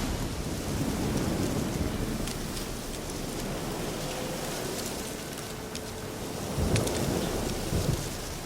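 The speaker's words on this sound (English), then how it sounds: "Storm." Thunderstorm with steady heavy rain in The Witcher 3, a dense wash of rainfall throughout with low rolling thunder rumbles, one swelling near the end, no voices.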